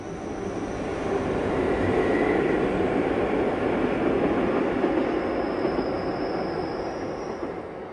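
The Bernina Express rumbles across the Solis viaduct, a loud sustained roar of wheels on track that swells and slowly fades, with a faint high squeal of wheels.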